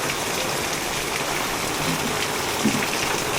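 Heavy, continuous rain pours down during flooding in Mirpurkhas, Pakistan, a dense, even hiss of water falling on surfaces, loud and close with no talk.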